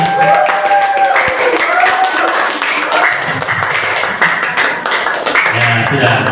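An audience at a school training session claps in a brief burst, mixed with talk and laughter, fairly close and fading into chatter.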